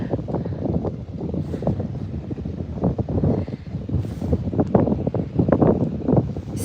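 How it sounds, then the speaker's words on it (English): Gusty wind blows across sunny boat docks in Norman Wells, Northwest Territories, a steady rumbling roar that rises and falls with the gusts and buffets the microphone, with no voices. "but very gusty."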